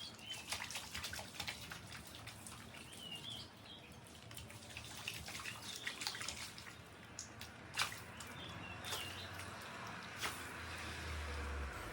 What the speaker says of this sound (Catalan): En un día de lluvia hay que disfrutar de la naturaleza.